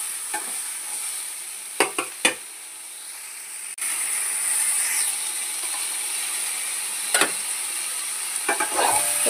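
Vegetables stirred in a pan for a Bengali fish curry, with scattered scraping clicks of the spatula over a steady background sizzle and hiss.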